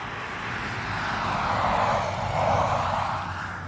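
An SAS Airbus A320 taxiing at Dublin Airport, bound for Stockholm, gives a steady, moderately distant jet engine roar with a broad rushing hiss that swells gently twice.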